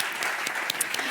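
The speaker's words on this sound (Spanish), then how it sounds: "Un aplauso enorme." Applause from an audience at a literary talk with writers in Madrid, a dense, steady clapping wash filling the moment, fairly close and loud, with a few sharper individual claps standing out.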